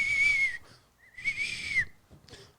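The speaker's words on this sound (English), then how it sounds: "I wish I could whistle that perfectly." A person whistles a melodic tune in three clear phrases, each sustained for about half a second, the pitch sliding slightly within each phrase, close and fairly loud with no talking.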